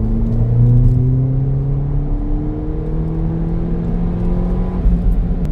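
VW Polo 6 GTI engine pulling hard through the gears from inside the car, a loud steady whirring drone with rising engine pitch and a brief shift dip near the end.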